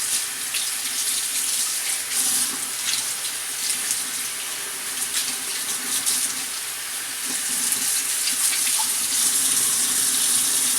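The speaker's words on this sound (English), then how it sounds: "we're going to take some just regular hot water. Just give that a good rinse to get all the conditioner out" Hot tap water runs steadily into a sink, rinsing conditioner out of the hair of an original Ideal Crissy doll, a continuous close splashing gush with small fluctuations as the hair moves under the stream.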